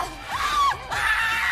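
A woman screams in a drawn-out, wavering cry that rises and falls across two long bursts, loud and close, heard during a scream test on a horror-hostess reality competition.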